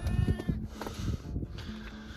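Newborn lambs in a herd of sheep being moved to new pasture let out several short, close bleats in quick succession, with no one speaking.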